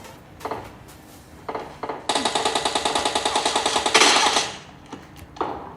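Automatic weapon fire in the shooter game PUBG, played on a Samsung Galaxy Tab A7 2020 speaker: a few scattered shots, then a loud, rapid sustained burst of about two seconds, followed by more isolated shots.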